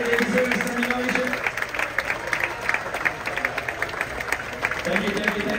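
Audience applauding in a cruise ship's main dining room during a show, steady clapping from a crowd with a voice speaking over it.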